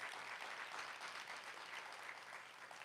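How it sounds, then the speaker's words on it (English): Audience applause for a panel of midwives at a Los Angeles County public health event honoring midwifery, a steady, fairly faint wash of clapping that holds throughout without any speech over it. "Give them a round of applause"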